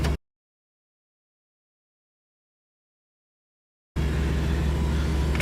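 A 1992 Pontiac Firebird with a four-speed overdrive transmission and Flowmaster exhaust rumbles loudly at close range, cutting in abruptly after a long stretch of silence.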